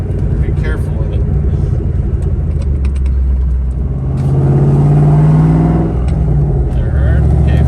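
Ford Mustang engine pulling hard up through the gears, a loud steady in-car rumble whose pitch climbs and shifts across gear changes, heard close and continuous throughout.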